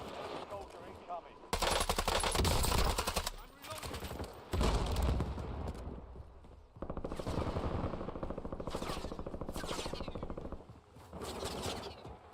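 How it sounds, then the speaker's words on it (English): Rapid machine-gun bursts in the video game Warzone crackle in several long and short volleys, loud and dense, separated by short quieter gaps with faint background talk. "Somebody was over here shooting."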